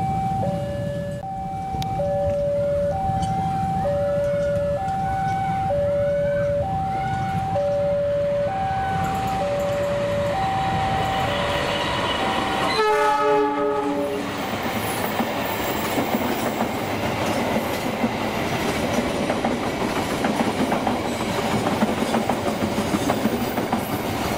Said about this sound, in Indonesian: Barusan kereta api Argo Parahyangan 49